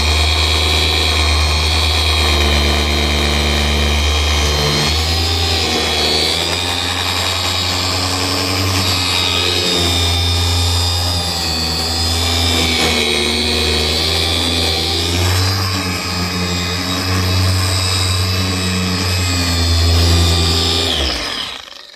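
Loud, continuous whirring of a rotary polisher spinning close by on a plastic headlight, its pitch wavering slightly as pressure changes, running without pause.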